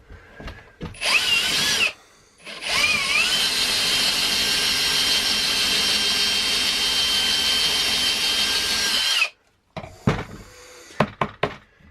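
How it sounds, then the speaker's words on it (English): A power drill whines loudly through wood in a long sustained burst, preceded by short start-up revs and followed by a few brief bursts and knocks. "I'm just going to drill that a little bit more"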